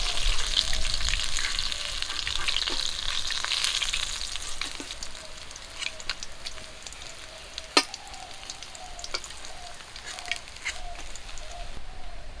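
Pieces of grass carp belly sizzle steadily in hot oil in a village kitchen, a dense crackling hiss with sharp pops and spits scattered across it, heard close and alone with no talking.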